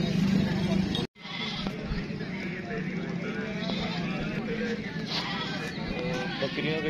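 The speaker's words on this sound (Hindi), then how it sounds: "बकरियों के शौकीन हजरात को आज बकरियों की वीडियो दिखा रहे हैं" Goats bleat repeatedly at a crowded livestock market, their calls mixed into a steady wash of background crowd noise with a brief dropout near the start.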